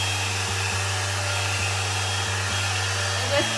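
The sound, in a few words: hair dryer blowing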